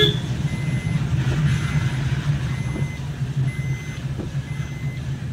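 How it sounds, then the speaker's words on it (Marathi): Repeated high reversing beeps sound at a steady rhythm over the low rumble of a nearby idling truck engine. "सचिनदाची गाडी निघाली."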